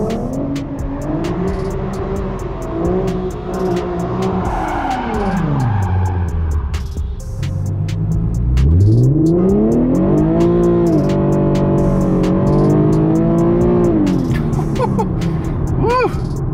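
An Infiniti Q50 fitted with a limited-slip differential conversion kit launches hard, its engine revving loudly with pitch swooping down and back up as the rear tires spin, the roar close and sustained to the end.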